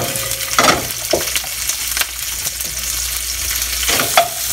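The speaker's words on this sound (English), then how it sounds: "You want the pan hot enough so when I put the shrimp in, it'll sizzle." Shrimp sizzle in a hot pan, a loud steady frying hiss with a few scraping stirs and clatters, close up and without talk.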